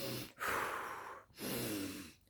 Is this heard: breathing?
yes